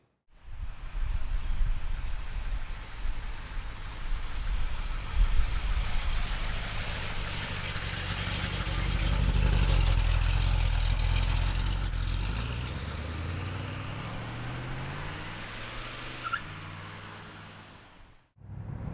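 A 1970 Chevrolet Chevelle's engine idles close by with a steady, deep rumble that swells a little midway, then settles before cutting off near the end.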